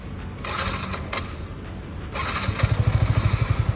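A Yamaha R15M motorcycle engine cranks over and catches, settling into a fast, even idle putter close by after a couple of brief mechanical clicks.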